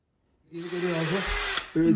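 A power drill runs steadily during a house renovation, a loud whirring drone lasting well over a second that briefly dips and then starts up again.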